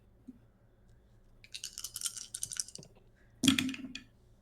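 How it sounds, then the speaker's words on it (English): Several dice tumble and clatter across a tabletop during a tabletop roleplaying game session, a burst of close rattling followed after a pause by a louder, sharper roll, with no talking. "everybody roll those dice"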